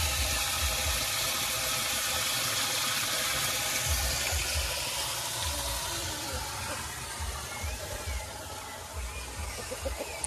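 Water is poured at a rural smallholding as a steady, close rushing splash that fills the whole stretch with little change in level.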